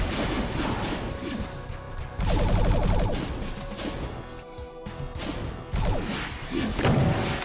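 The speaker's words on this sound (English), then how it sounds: "Tedious shotgunning it is." Repeated shotgun blasts and heavy impacts from the game Doom II, dense and loud with thudding hits and crashes layered over a busy game soundtrack, no talking.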